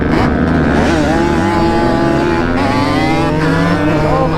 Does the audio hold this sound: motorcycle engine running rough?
yes